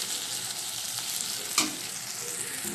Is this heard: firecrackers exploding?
no